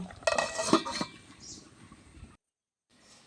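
Metal lid clanks onto a pot of fish curry with green peppercorns, a few close clinks and scrapes of cookware, then a short silence before faint kitchen noise returns.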